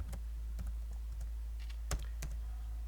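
Keys on a computer keyboard are typed in a few sparse, separate clicks, close and fairly quiet over a steady low hum, with no talking.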